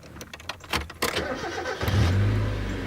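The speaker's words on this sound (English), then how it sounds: "and as we started up" A Mazda car engine cranks briefly, then catches and settles into a steady low rumble, close and fairly loud.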